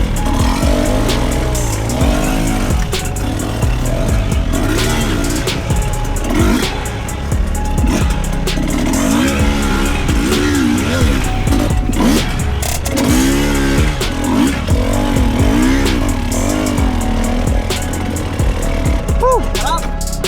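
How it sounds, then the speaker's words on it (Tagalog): A loud motorcycle engine revs hard on a dirt trail, rising and falling in repeated throttle surges with a rough, buzzing drone throughout, close and dominant while someone talks over it. "Sarap nung malakas ang motor."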